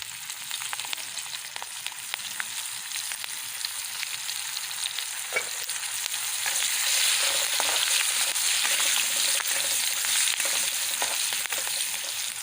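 Ginger pieces, garlic cloves and chunks of chili sauté in hot oil in a pan for a cashew curry, a steady crackling sizzle that swells louder midway as the mixture is stirred, continuous and close with no talking.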